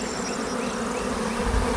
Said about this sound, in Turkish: Arılar bugünlerde sevinçli. Çünkü güzel nektar buluyorlar.